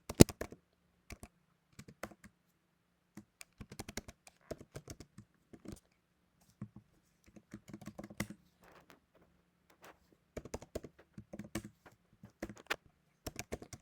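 Bursts of typing on a computer keyboard while writing code, the keystrokes arriving in irregular clusters with short pauses between, close and moderately loud, with no talking.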